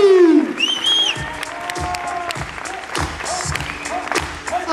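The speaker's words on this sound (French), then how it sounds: "Faites du bruit pour Lilou." A crowd at a hip hop slam festival claps and cheers loudly and continuously, with whistles and scattered shouts rising over the applause.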